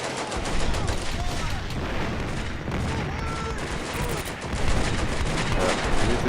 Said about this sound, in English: Artillery is still falling.